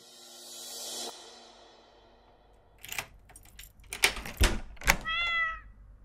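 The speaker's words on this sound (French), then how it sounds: "C'est un bon chat, ça." A domestic cat meows near the end, a short harmonic call following a run of thumps, knocks and jangling keys.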